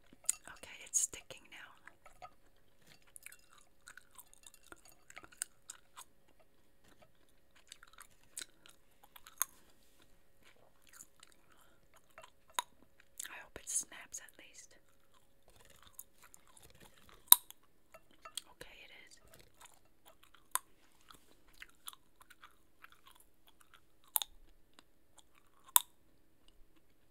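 Cup Noodles Mexican-flavored gum is chewed close to the mic with soft wet mouth sounds and scattered sharp snaps, some quiet whispering between the chews.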